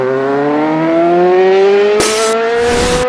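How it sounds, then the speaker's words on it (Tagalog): Honda XRM 125 Fi motorcycle engine with rapid engine knocking idles and revs close up, a loud steady drone rising slightly in pitch, then a sudden rattling clatter near the end, with no talk. "Napakaingay, meron siyang engine knocking at malagutok."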